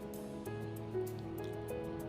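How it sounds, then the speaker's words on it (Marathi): Sugar water trickling over soft, spongy steamed dhokla, a quiet, close liquid pour with small wet squishes and drips, faint and continuous. "इथे आपण साखरेचं पाणी घालायचं आहे या पद्धतीने"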